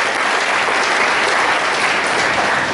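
Steady applause from an audience at an annual college prize-distribution ceremony, a dense continuous clatter of many hands, loud and even throughout with no talk over it.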